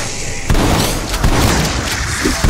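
A frag grenade blasts in Call of Duty Cold War Zombies with a heavy, close boom, followed by a dense rumble and scattered smaller pops and bursts.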